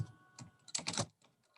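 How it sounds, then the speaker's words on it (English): Rapid bursts of typing on a computer keyboard, sharp clustered clicks at close range that pause briefly and resume, with no talk over them. "And I'm typing in"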